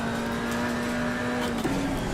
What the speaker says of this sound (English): It revs so high on the first gear.